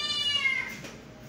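A house cat meows at close range, one drawn-out descending cry lasting about a second with no talking over it.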